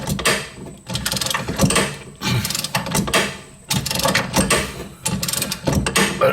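Ratchet wrench turning the bolt of a suspension bushing press kit on a car knuckle, repeated bursts of rapid metallic clicking in several strokes separated by short pauses, close and loud with no talk.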